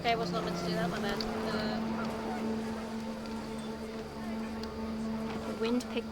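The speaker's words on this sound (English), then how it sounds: "panicked geese appeared and quickly went" Panicked geese honk in a video game as wind picks up, a busy mix of calls layered over steady tonal game audio and speech throughout.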